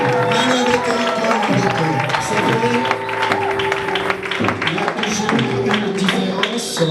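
A church congregation acclaiming and applauding, with loud overlapping voices, clapping and sustained musical tones filling the space throughout.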